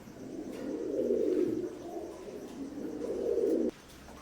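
A new adult pair of imported KTM Teddy pigeons of Oman bloodline coo in low, throaty rolls, two long swelling bursts with a brief dip between, close and clear before cutting off abruptly.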